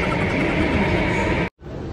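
Loud, steady rumble of an MRT train in a Singapore station, a continuous broadband roar that cuts out abruptly near the end before resuming more quietly.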